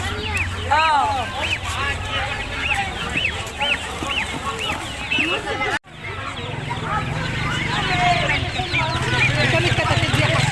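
Many chicks cheep in a constant high chorus at a busy outdoor poultry market, with deeper hen clucking mixed in and people talking over them; a short break cuts the sound midway before the chirping resumes.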